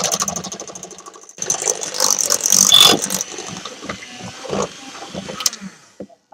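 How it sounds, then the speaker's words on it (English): An electric mixer whirs and rattles through thick cocoa fudge, running loud and steady with changing mechanical grinding tones, then slowing toward the end. "So then he's going to turn it on and mix it up with the electric mixer."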